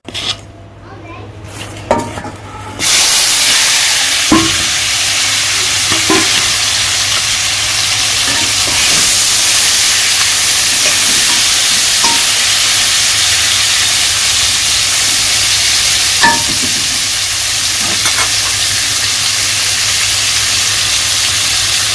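Pointed gourd pieces seasoned with salt, turmeric and chili frying in oil on a village stove, a loud steady sizzle and hiss that starts abruptly after a few seconds, with occasional utensil clinks throughout.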